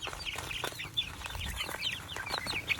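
Baby poultry in a brooder, a mix of ducklings, goslings, chicks, guinea keets and turkey poults on a farm, peep and cheep constantly in a dense, overlapping chorus of high chirps.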